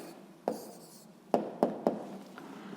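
A pen taps and scratches briefly on paper as a math answer is written down, four soft close strokes over quiet room tone with no speech.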